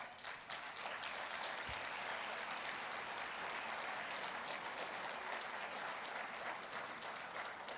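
Sustained audience applause at a Mexican political gathering, a dense, steady wash of many hands clapping for the full length with no speech over it.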